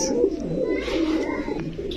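Low, soft pigeon cooing close by at a pigeon market, blending with faint background voices.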